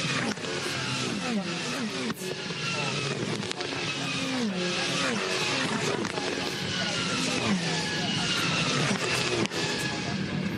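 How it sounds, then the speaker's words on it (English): V8 Supercars race engines roar and shift pitch at Bathurst over a continuous hiss of Dunlop wet tyres on a wet road, with a commentator talking over the noise throughout. "That's the sound of the Dunlop wets that you can hear on the road."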